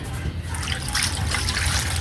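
Water pours in a steady trickling stream into a cooking pot holding pork bones and ginger for a boiled pork soup, a short continuous splash with no talking.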